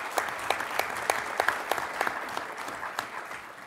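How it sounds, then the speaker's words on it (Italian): Audience applause at an annual conference event in Florence: a steady, moderately loud patter of clapping hands with a few sharper individual claps standing out, sustained for several seconds. "vi chiederei un applauso anche se non c'è"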